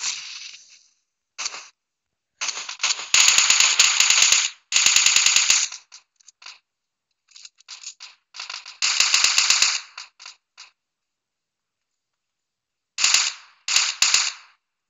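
Rapid bursts of automatic gunfire in the mobile battle royale game PUBG Mobile, sharp crackling volleys separated by short silences, some bursts longer and denser than others, loud and close with no talking.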